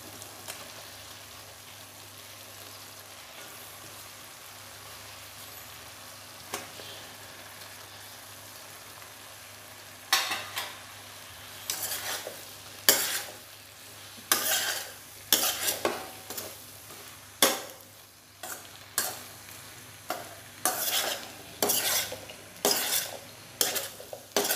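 Potato and capsicum pieces fry in a pan with a steady soft sizzle, then a spoon stirs them in repeated close, rhythmic scraping strokes over the hiss.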